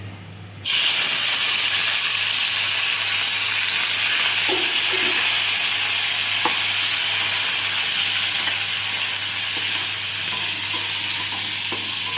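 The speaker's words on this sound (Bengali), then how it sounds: "আমি আগে নিম পাতাটা ভেজে নেব, তাহলে তেতোটা লাগবে না।" Neem leaves dropped into hot oil burst into a loud, steady sizzle after a brief quiet start, with occasional soft stirring taps throughout.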